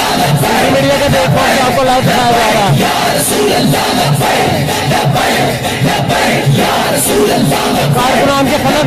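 A large crowd of party workers chanting slogans at a rally, loud and sustained with rhythmic rising and falling shouts that fill the whole stretch.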